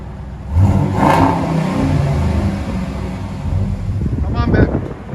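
A pickup truck's V8 engine with true dual exhaust revs up in a loud, close burst, then settles into a rumbling idle, with gusty wind noise over the microphone throughout.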